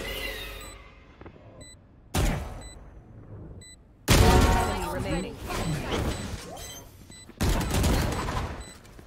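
Sharp gunshot bursts in the tactical shooter Valorant, several loud cracks at irregular intervals with small pings between them, and a player talking over the fire.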